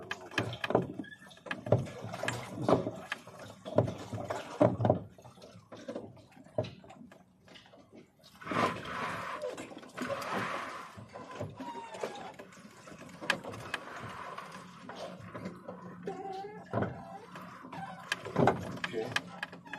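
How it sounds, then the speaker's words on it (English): A boat trolling motor is turned on a windy lake, with clunks, whirring and water sounds at close range, while someone talks over it in short bursts. "I gotta turn this trolling motor a little bit."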